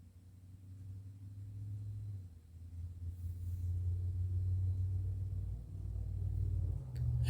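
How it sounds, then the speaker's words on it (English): A car passes outside a house with a tiled floor, heard from indoors as a low, muffled rumble that builds, holds and slowly eases off, fairly distant, with no speech over it. "There's another car driving by."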